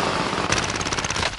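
A submachine gun in Warzone fires a fast, close burst of rapid shots, loud and sharp, lasting about a second.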